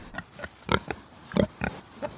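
Pigs grunt in a series of short, rough snorts at irregular intervals, several louder ones standing out, fairly close with nobody talking.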